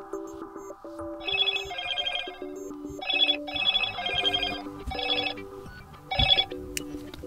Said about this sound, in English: The phone goes a little bit ape mode right here with spamming you with the ringtone